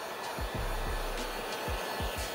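Heat gun blowing hot air to shrink 3M Crystalline window film on a 2022 Tesla Model X, a steady close whooshing roar with low thumps of the film and tool being handled, no talking.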